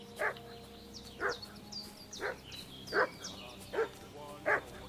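A dog in Kingdom Come: Deliverance II barks in an evenly spaced run of six sharp woofs, moderately distant over a quiet ambient bed.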